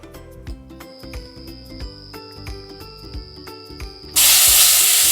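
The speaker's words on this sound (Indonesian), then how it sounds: "Nah, sekarang saya mau tumis bumbunya, teman-teman." Spice paste for Indonesian soto hits a hot pan in a sudden, loud burst of sizzling hiss near the end, after a stretch of rhythmic background music.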